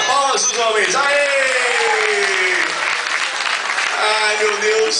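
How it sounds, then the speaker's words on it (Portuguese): Men in a lively audience at a dance performance applaud loudly, with continuous clapping mixed with whoops, shouts and yelling voices, all close and energetic for several seconds. "Palmas dos homens"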